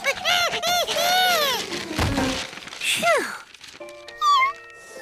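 Lucky, a young cartoon kitten, meows in a string of high, rising and falling cries, loud and close, followed by a brief crash and a few more plaintive wails with a tinkling musical tone.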